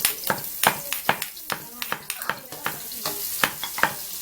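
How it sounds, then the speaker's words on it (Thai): Shrimp paste and pounded chili are stir-fried in oil in a pan, with loud, rapid, repeated scraping and clanking of a spatula over a continuous close sizzle. "เสร็จแล้วก็ใส่ กะปิแล้วก็พริกที่ตำแล้วลงไป"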